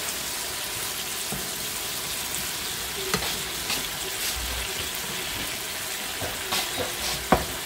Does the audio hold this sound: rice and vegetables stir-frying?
yes